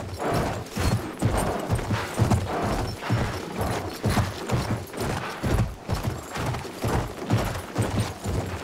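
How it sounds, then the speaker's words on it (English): A horse gallops across the Sinai Desert map in the Battlefield 1 video game, its hooves thudding in a fast, steady rhythm, close and fairly loud, while distant gunfire crackles behind. "We can horse it all the way to Echo."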